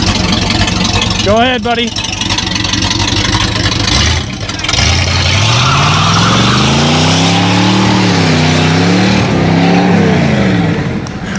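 A 1937 Ford pickup engine idles loud and close, then revs and climbs in pitch as the truck drives off in first gear, rising and falling through several surges, while someone talks over the engine.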